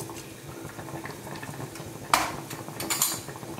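Mustard seeds, urad dal, black pepper and fenugreek fry in hot oil in a pan for a Tamil black-eyed pea kulambu, giving a steady low crackle and sizzle with a couple of sharper spatters and a brief utensil clink.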